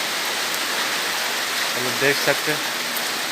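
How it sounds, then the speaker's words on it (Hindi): Heavy rain falls in a village, a dense steady hiss of water on surfaces throughout, with someone speaking briefly over it. "ये पूरा के पूरा बारिश हो रहा है।"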